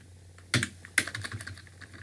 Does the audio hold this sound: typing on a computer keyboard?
yes